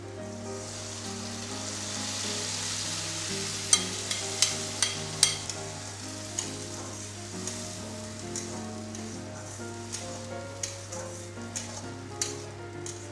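Ginger, garlic, onion and tomato paste sizzle steadily in a hot pan for an egg curry, a continuous frying hiss with a few sharper crackles and stirring scrapes partway through, fairly close and with no talking.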